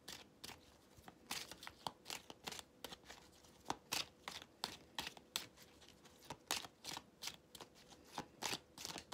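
Playing cards being shuffled and drawn by hand in a rapid run of crisp riffling flicks and slaps, close and fairly quiet, with no talking.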